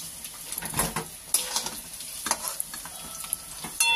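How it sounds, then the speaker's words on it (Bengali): Potato pieces fry in hot oil with a steady crackling sizzle, broken by scraping stir strokes at irregular intervals, close by and with no voices. "আলুটাকে লাল লাল করে ভেজে নিলাম ভালো করে।"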